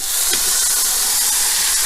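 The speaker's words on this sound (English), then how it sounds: "You can hear that sizzle." Pork browning in a Ninja Foodi multicooker gives off a loud, steady hiss of sizzling fat and steam, broadband and unbroken from start to finish with no voices.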